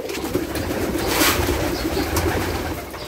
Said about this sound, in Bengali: সে তার কবুতর গুলাকে খাবার দিতেছে,